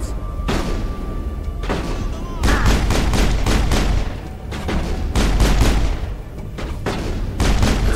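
Shotgun gunfire in Mass Effect, loud booming blasts arriving in repeated clusters over sustained battle noise, heavy and close throughout.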